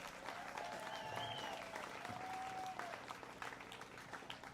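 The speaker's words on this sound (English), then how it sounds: "Give them a big round of applause." Faint, steady applause from an audience at a county fair 4-H/FFA market hog show, a soft continuous patter with a few thin whistles riding over it.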